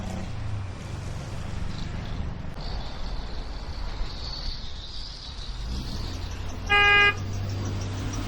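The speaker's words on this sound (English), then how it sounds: "Somebody's blowing their horn." A single car horn honks briefly and loudly at a traffic circle, cutting through a steady bed of nearby traffic rumble and passing vehicles.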